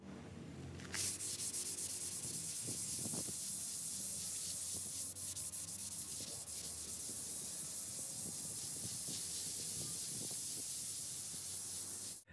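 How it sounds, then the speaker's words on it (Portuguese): Dried wall putty being sanded smooth, a continuous close hissing rub of abrasive across the wall with occasional louder strokes, steady throughout and without voices. "Finalizado o lixamento, passei um pano retirando toda a poeira"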